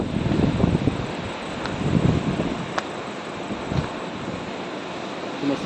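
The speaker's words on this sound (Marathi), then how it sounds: "लाटा नुसत्या एकदम" Sea waves wash onto the Devgad coast, heard as a broad, steady roar of surf mixed with wind buffeting the microphone, with a few brief rustles and no talking.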